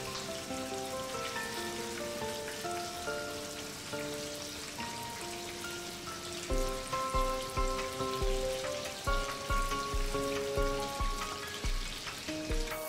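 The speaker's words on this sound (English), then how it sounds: "Carefully add the lamb meat. Add and fry white fat portions of meat." Lamb fat pieces fry in warmed sunflower oil, a soft steady crackle sitting under background music, with a few louder low thumps in the second half.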